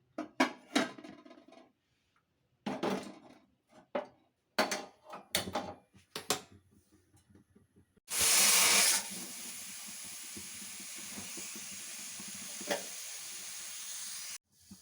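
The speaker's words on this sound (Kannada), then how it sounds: "ಮುಚ್ಚಳ ಮುಚ್ಚಿ ನಾನು ಒಂದು ವಿಷಲ್ ಹೊಡೆಸ್ಕೊಂಡ್ಬರ್ತೀನಿ." Several close clatters and clanks come from handling a pressure cooker of drumstick leaf dal, then its whistle bursts out loud and trails into a long, steady hiss of escaping steam lasting several seconds.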